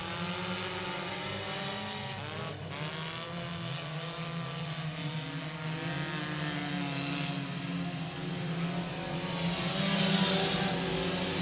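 Four-cylinder race cars battle three and four wide out of turn two in a heat race at a dirt speedway. Their engines roar loud and steady, rising and falling together as the pack drives past.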